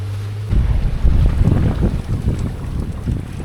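Big colliding sea waves crash and churn around a fishing boat at sea off Santa Ana, Cagayan, with heavy wind buffeting the microphone; loud, rolling surges after a brief quieter start, no talking.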